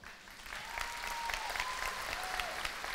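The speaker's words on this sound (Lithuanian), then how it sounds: "paprašyti jūsų garsių aplodismentų šiem žmonėm" Steady, close applause from a studio audience on a Lithuanian televised music show, dense clapping sustained throughout with a faint voice and tones in the background.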